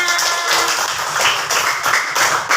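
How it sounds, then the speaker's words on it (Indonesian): Schoolchildren in a classroom coding and AI lesson clap their hands together in steady, dense rhythmic applause, close and loud, with almost no talking. "Oke, beri tepuk tangan untuk Sabrina."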